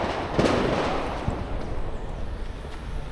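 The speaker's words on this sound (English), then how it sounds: "Holy shit, that was gunshots." Gunshots ring out in a street in Rio de Janeiro, a few sharp cracks early on followed by softer, scattered distant reports over steady outdoor background noise.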